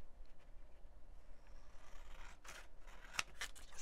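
Scissors cutting paper close by, several quiet snips and crisp slicing strokes clustered toward the end against a soft room background.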